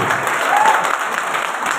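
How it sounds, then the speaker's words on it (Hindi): A burst of loud group clapping, dense and continuous, from an audience close by. "एक जोरदार ताली होती है।"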